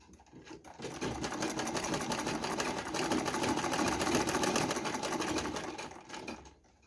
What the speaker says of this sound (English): continue sewing till when I get to this